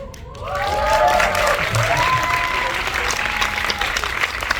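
Audience applause at a film screening talk event, dense clapping swelling after a brief quieter start and staying loud and steady, with some cheering mixed in.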